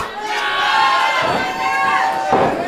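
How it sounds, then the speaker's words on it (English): A wrestling event crowd roars and cheers loudly throughout, a dense wall of shouting voices with rising surges, close and continuous. "that crowd has only gotten louder"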